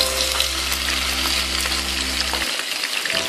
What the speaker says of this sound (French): on va venir déposer donc sur l'huile chaude